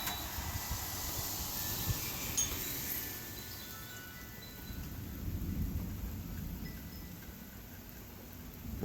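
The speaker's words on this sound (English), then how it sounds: "There was a lightning strike to the left of me. That's where that thunder's from." Thunder from a nearby lightning strike rolls as a faint, low rumble through a garden yard in May, a soft and steady murmur under quiet outdoor ambience.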